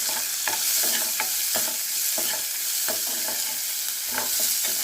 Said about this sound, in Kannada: ಈಗ ಕಾಯಿಸ್ಕೊಳ್ತಾ ಇದ್ದೀನಿ.